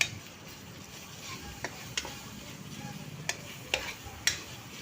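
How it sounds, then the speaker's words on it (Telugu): Chicken with ginger paste sizzles in a pan while a spatula stirs it, a constant frying hiss punctuated by several sharp scraping clinks against the metal, close up. "అడగట్టకుండా బాగా కలుపుతూ ఉందాం."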